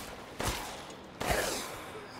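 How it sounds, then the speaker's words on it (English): Two sharp pistol shots in Resident Evil Village, spaced about a second apart, each loud and close with a lingering echoing tail. "I'm just gonna use a pistol in here."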